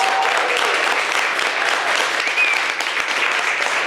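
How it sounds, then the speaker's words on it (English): A crowd at a campaign kickoff for a county commissioner candidate, gathered at the Pisco Sour restaurant, claps loudly and steadily for several seconds, dense and close, with a few faint whistles over it. "let's give Pisco Sour a round of applause for hosting us"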